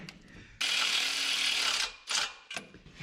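A power tool spins lug nuts down onto the wheel studs of a 1967 Toyota pickup: one sustained whirring burst, then a few short, sharp bursts, close and fairly loud with quiet gaps between.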